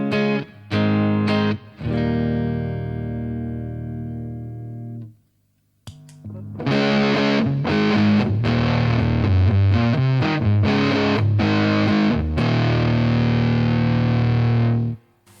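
Telecaster neck pickup through a Zander Circuitry Siva distortion pedal: heavy, bass-rich distorted guitar with a few chord stabs and a long ringing chord, a short gap, then a busy driven riff, loud and close with no talking.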